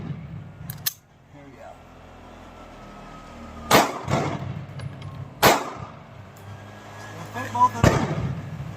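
A Sig Sauer P365 pistol fires Hornady Critical Duty rounds outdoors: three sharp, loud shots spaced a couple of seconds apart, with an earlier faint click and some low background noise.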